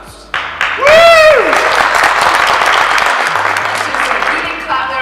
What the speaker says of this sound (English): If you didn't clap there, I would tell you to clap.